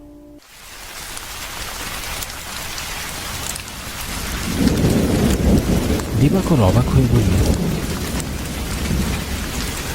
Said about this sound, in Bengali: এবং সাথে সাথে প্রচণ্ড বৃষ্টি শুরু হলো